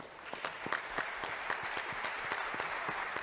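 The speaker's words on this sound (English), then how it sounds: "And then we also want to clap for the panelists here today." Sustained applause from an on-site audience at the close of a live panel discussion, a steady dense patter of many hands clapping throughout with a few sharper claps standing out, moderately distant and without speech.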